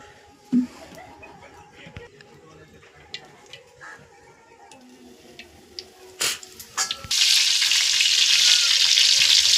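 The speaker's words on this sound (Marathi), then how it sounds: "आता आपण चिलापे फ्राय करणार" Tilapia fish frying in a pan over a wood-fired stove: quiet clatter and faint movement at first, then a loud, steady, close sizzle that erupts in the last couple of seconds and continues to the end.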